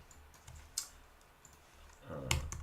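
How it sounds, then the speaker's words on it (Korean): A few isolated key presses on a computer keyboard, the S key tapped while working in 3D modeling software, give sharp quiet clicks spaced apart, with a slightly louder cluster of clicks near the end. "S키 눌러서 갈게요."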